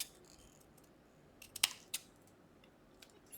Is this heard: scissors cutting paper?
yes